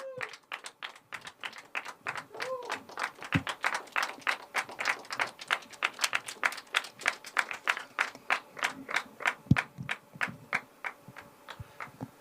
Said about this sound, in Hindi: जोरदार तालियों से स्वागत करें ऋषभ जी का।